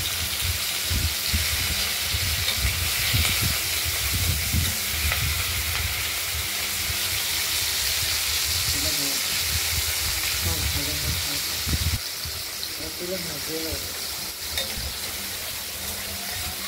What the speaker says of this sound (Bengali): চিংড়ি মাছগুলো ভাজা হতে একটু সময় লাগবে